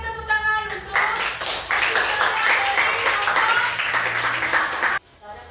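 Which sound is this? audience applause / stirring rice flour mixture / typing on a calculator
audience applause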